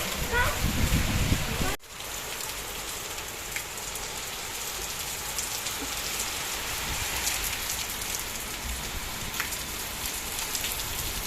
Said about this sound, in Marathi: खूप जोरात आहे पाऊस वारं पण खूप आहे आणि पाऊस पण खूप आहे